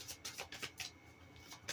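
Tarot cards being shuffled during a spiritual reading, a series of quick, crisp riffling bursts repeating in an uneven rhythm, close up, with no talk.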